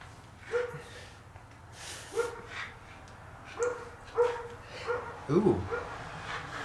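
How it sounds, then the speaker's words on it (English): A dog barks in short, repeated yips at a distance, spaced over several seconds, with a few quick barks close together near the end. "That dog, I tell you what."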